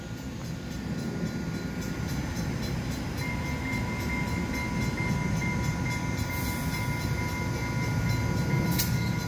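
An EXO MR90 electric multiple unit train slows to a stop at a station, with a steady low rumble and a thin electric whine that rises midway, plus a brief hiss near the end.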